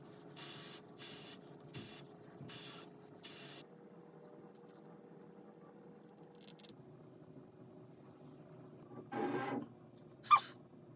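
Hair spray misted onto an Outre HD 13x6 lace front wig, heard as five quick hissing spritzes in a row near the start, then a longer louder burst later, close and with no talking.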